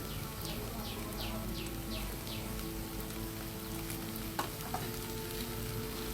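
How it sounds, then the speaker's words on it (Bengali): Chopped tomatoes sauté with green chillies in a pan at home, a faint, steady low sizzle running throughout with a couple of soft clinks near the end, while chirping birds sound in the background. "ভালোভাবে কষিয়ে নিব। টমেটোগুলো নরম হয়ে আসছে।"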